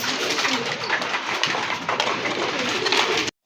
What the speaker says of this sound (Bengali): মাশাআল্লাহ এক জোড়া কবুতর দেখতে পাচ্ছেন, শার্টিন কবুতর, ব্লু শার্টিন কবুতর।